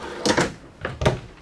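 Solid wood drawers on ball bearing guides in the front kitchen of a 2026 Forest River Rockwood Mini Lite 2523MBR camper slide and knock shut in a few quick, close rolling thumps.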